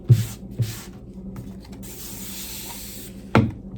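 Wood stain product sprayed onto a dresser, with short hissing bursts at the start and another sharp spray near the end over quiet background rubbing.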